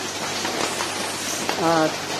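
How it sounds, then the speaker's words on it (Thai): Steady, dense rain hisses and patters on a leaking roof throughout, with a short voice sounding near the end. "ขณะนี้ฝนตกทำให้ หลังคารั่วนะครับ"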